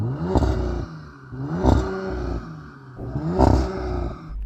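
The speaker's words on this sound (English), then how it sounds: "Let's have a listen to the Audi." Audi RS5 engine revving hard three times in a steady rhythm, each blip rising sharply then dropping back to a rumbling idle, loud and close with a brief clattering edge.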